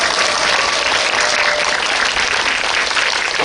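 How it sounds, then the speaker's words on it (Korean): Loud, dense audience applause at a Lotte Cinema star event with actor Jo In-sung, continuous clapping filling the room without a break. "여러분 박수 부탁드립니다"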